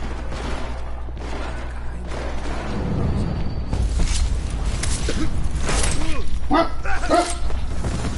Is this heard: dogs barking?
yes